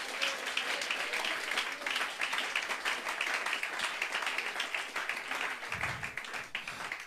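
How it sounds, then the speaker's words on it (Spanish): A church congregation applauds during a Sunday morning service, a dense, sustained wash of many hands clapping that fills the room, steady throughout with faint voices mixed in. "Un aplauso para el Señor Jesús."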